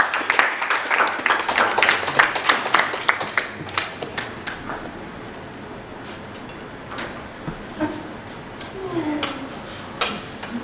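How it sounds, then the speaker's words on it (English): Housemates on a reality TV show applaud a departing guest, a burst of clapping strongest in the first few seconds that thins into scattered claps and fades, with faint voices underneath. "Housemates, applaud our guest once again."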